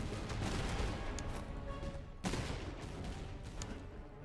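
Infantry volley fire from the Master of Command Holy Roman Empire campaign, with Bavarian troops in line battle, a dense continuous crackle of distant musketry with one sharper louder burst partway through, no talk.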